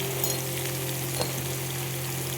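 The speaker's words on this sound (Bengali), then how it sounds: "এবার দিয়ে দিলাম সব সবজিগুলো, কাঁঠালের বীজ, হলুদ দিয়ে দিলাম" Vegetables, jackfruit seeds and turmeric frying in a pan, giving a steady, close sizzle that holds evenly throughout with no talk over it.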